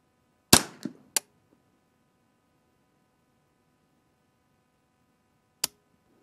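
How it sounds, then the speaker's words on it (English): A Franken 10-22 semi-automatic rifle fires several sharp shots: a quick cluster of three close together, then a single shot after a long silent pause. "All right, last 5 shots."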